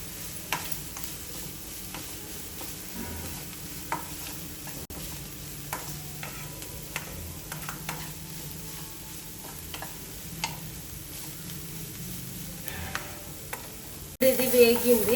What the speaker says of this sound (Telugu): అల్లం వెల్లుల్లి పేస్ట్ మొత్తం పచ్చిదనం పోయేదాకా